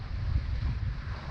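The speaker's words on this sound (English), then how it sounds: "and we actually have some wind." Wind buffeting the microphone while sailing out of Kenosha on Lake Michigan, a steady low rumbling roar with gusty swells and a faint hiss of water.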